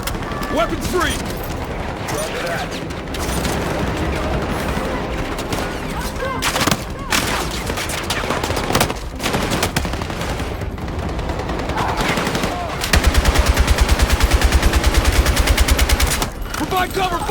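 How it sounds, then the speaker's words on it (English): Gunfire fills a Battlefield 6 campaign battle: bursts of rapid automatic fire and single shots crack over a dense combat din, with a loud sustained burst near the end and shouted voices mixed in. "Provide cover fire!"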